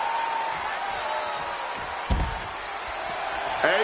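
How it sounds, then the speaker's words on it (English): A neck breaker slam in the WWE 2K26 wrestling video game lands as one heavy, booming thud midway through, over a steady roar of arena crowd noise that swells again near the end. "Devastating neck breaker."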